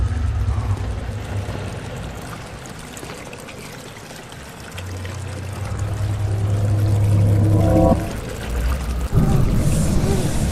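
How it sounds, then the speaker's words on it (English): Water in a video game runs and pours steadily, swelling to a louder gush before settling into a trickle, with no voices. "Oh, okay, it's just water running."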